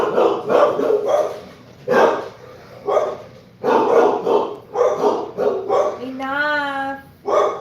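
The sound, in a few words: dog barking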